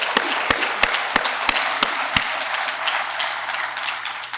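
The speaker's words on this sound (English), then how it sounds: "let's give them a great round of applause for their support" An audience at an award presentation breaks into sustained applause, dense clapping with a few sharp nearby claps standing out at the start, gradually thinning toward the end.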